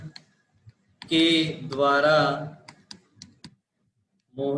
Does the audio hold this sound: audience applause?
no